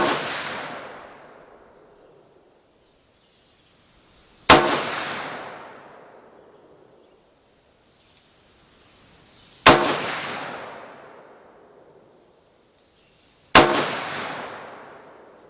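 Three heavy rifle shots from a Noreen BN36X3 AR-platform rifle chambered in 30-06, each a sharp loud crack with a long decaying echo, spaced several seconds apart with quiet between.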